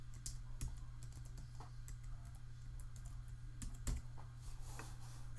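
Fingers type a file name on a computer keyboard: scattered crisp key clicks in uneven bursts, close and moderately loud over a faint steady hum, with no talk.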